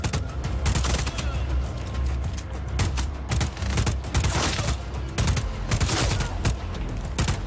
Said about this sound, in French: Les headshots, on récupère les balles en passant, c'est important.